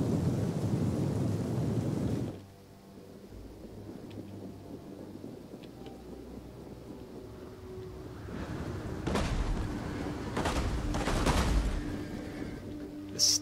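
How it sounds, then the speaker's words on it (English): Artillery fire in Total War Rome 2, aimed at Tarentine units during a battle: heavy booming impacts and rumbling blasts, several close together toward the end, over a continuous low battle din. "time to start picking up Tarentine units with my artillery"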